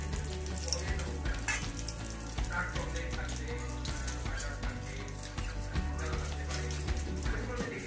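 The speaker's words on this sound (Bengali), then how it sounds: "এবার তেজপাতা দেওয়া হলো" Bay leaf dropped into hot oil in a pan after frying potatoes, giving a steady, close crackling sizzle that runs throughout with faint clinks and background sounds.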